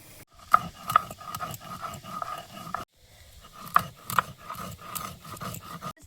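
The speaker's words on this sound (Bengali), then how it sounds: "গোলমরিচটা আমি শিলে গুঁড়ো করে নেব।" Black pepper is crushed on a traditional Bengali grinding stone (shil), with rhythmic rasping and rubbing strokes of stone on stone, close and moderately loud, broken by a short pause.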